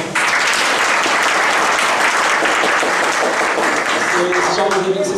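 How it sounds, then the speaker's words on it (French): Loud, sustained audience applause fills the room at a slam poetry evening, a dense continuous wash of clapping from a large crowd, with a few faint voices rising near the end. "S'il vous plaît, des applaudissements."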